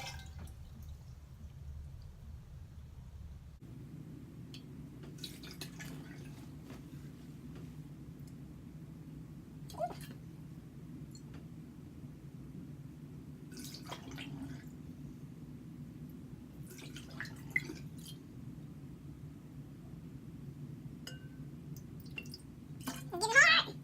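Water runs steadily from a tap while an Orbeez glass bowl is washed, with scattered drips and small splashes over the flow and a louder clatter near the end.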